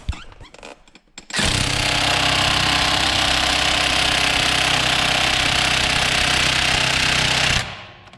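An impact wrench hammers at the track bar bolt on a 2009 Ram 2500, a loud continuous rattling burst lasting about six seconds, close up, after a few brief clicks and cutting off abruptly.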